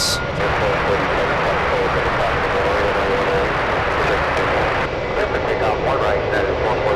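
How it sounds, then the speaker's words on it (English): An Airbus A319 takes off from a runway at San Francisco International Airport, a loud sustained broadband jet engine roar that holds steady and then thins slightly toward the end. "And there it is, cleared for takeoff"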